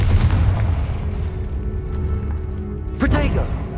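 Booming blasts from the Confringo explosion spell in Hogwarts Legacy, with a heavy rumbling burst at the start and another sharp blast near the end, close and loud.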